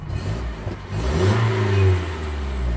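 A Nissan S15 Silvia engine starts and revs up loudly close by, its low rumble rising and swelling before settling into a steady, throaty idle.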